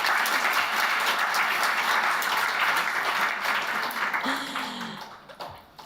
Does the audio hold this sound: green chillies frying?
no